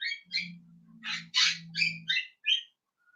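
A bird gives a quick series of bright chirps and squawky calls, close by, with a low hum underneath and brief pauses between calls.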